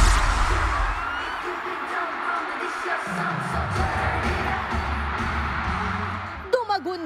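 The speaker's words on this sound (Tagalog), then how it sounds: "Dumagundong ang Philippine Arena sa hiyawan at sigawan ng Filipino Onces sa pagbabalik ng K-pop girl group na Twice sa Pilipinas" Filipino fans, the Onces, screaming and cheering for K-pop girl group Twice inside the Philippine Arena: a dense, steady roar of a huge crowd lasting throughout, with a few sharper bursts near the end.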